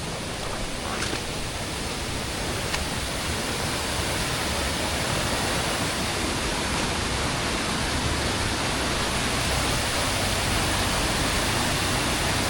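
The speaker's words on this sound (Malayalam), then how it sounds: "അപ്പം അതാണ് വെള്ളച്ചാട്ടം." A small waterfall beside a village churchyard in Idukki gives off a steady, dense rush of falling water, constant and fairly loud throughout with no voices.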